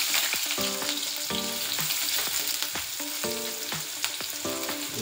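Onions fry in a pan for a cabbage gobi Manchurian, a strong steady sizzle close up with repeated scraping and clinks from a spoon stirring them, with no voices.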